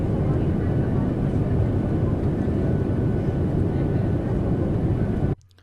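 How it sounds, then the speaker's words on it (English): Cabin of a commercial airliner in flight: a steady, dense, full-band engine and airflow roar, constant throughout, then cutting off abruptly just before the end. "2 sound effect clips here of the interior of a commercial airliner"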